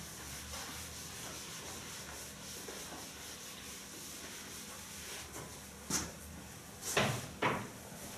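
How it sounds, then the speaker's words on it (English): Writing is rubbed off a board with quiet, soft scuffing strokes, faint and steady at first, then a few louder brushing swipes near the end. "I'm going to rub this out, and I'm going to rub that out and write it up the top."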